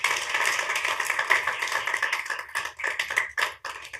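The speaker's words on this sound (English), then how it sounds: "That deserves a big round of applause." An audience applauds at a county commissioners' meeting, a dense steady patter of many hands clapping for about four seconds before thinning into scattered claps near the end.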